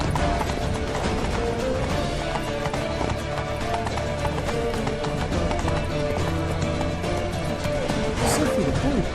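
A horse gallops in The Witcher 3 against a loud, dense game soundtrack and ambience, with hoofbeats blending into the steady background and a few sharper accents.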